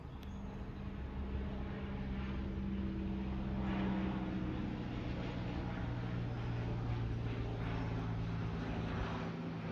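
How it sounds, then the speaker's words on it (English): An airplane passes overhead under dark clouds, a broad sustained drone that swells slightly mid-way and holds steady, with faint background noise. "Even a plane is coming."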